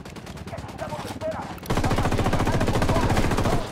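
Machine gun fire in the Ghost Recon video game starts as scattered shots, then becomes loud, continuous rapid fire.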